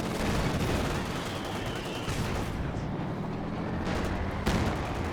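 Machine gun fire in the Company of Heroes 2 battle game, dense continuous bursts and rattles over a heavy, rumbling battlefield din.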